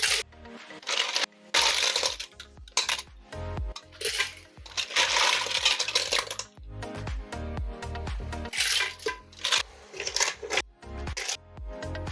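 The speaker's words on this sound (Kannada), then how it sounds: "ಇದಕ್ಕೆ ಮರವೈನ ಹಾಕೊಳ್ಳೋಣ" Clams tumble into a frying pan for a Kannada-style clams sukka, a close run of sharp clattering shell knocks and rattles in irregular bursts, with no talking.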